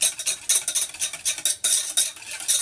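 Cake batter for an eggless, oven-free sponge cake is whisked briskly in a bowl, giving a steady run of rhythmic scraping and clinking strokes, close and fairly loud, with no talk.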